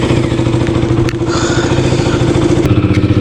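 A KTM RC motorcycle engine running just after starting, a steady close, loud rhythmic idle with a fast pulsing beat and some mechanical clatter throughout.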